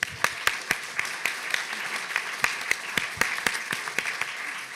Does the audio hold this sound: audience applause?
yes